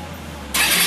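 A Honda Hornet 160R motorcycle engine cranks and catches, with a low steady hum before it suddenly bursts into a loud, continuous running roar.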